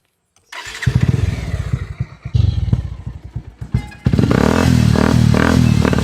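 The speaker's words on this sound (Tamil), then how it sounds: "வண்டியை ஸ்டார்ட் பண்ணு." A two-wheeler is started with a few uneven clattering cranks and sputters, then catches and settles into a loud, steady idle close by.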